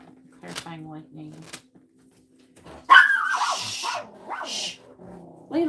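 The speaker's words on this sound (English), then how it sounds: "Will you say something to Layla so she stops barking at you?" A dog barks in a couple of sharp, close bursts during a tarot card reading, over the rustle of cards being shuffled. A person speaks in between the barks.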